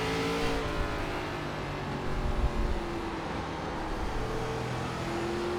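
Race car engine in iRacing on the ARCA Menards Series track at Lanier, throttle feathered so the steady drone wavers gently, with other cars droning nearby.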